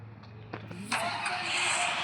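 A motorbike engine in a shooting video game, a short rising mechanical whine that starts up partway through and holds steady, fairly faint with game ambience beneath.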